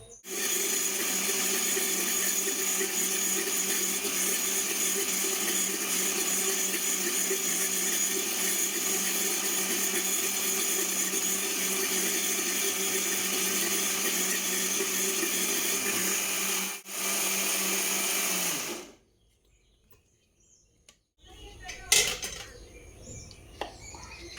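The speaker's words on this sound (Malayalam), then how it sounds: "അപ്പോൾ നമുക്കിത് അരയ്ക്കാനായിട്ട് തുടങ്ങാം." A mixer grinder grinds soaked idli and dosa batter with a constant loud whirring roar for about nineteen seconds, then cuts off, leaving near silence and a few faint clinks.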